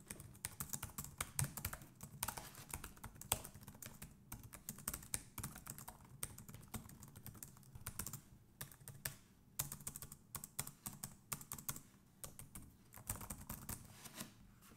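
Rapid typing on the keyboard of a Teclast F7 Ultrabook laptop makes a steady stream of soft, close clicks and key taps, recorded quietly with no voices.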